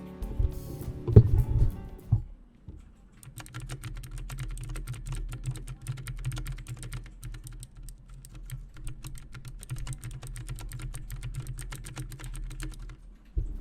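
Rapid clacky keystrokes on an OKER X100 mechanical keyboard with blue switches, continuous and close, following a few heavier handling thumps at the start.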